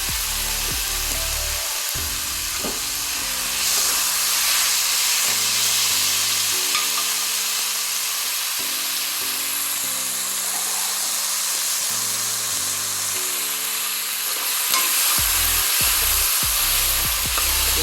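Tomatoes sautéing in a pan for mutton curry, a steady sizzle with repeated stirring scrapes and a few low knocks from a spoon against the pan, close and fairly loud throughout.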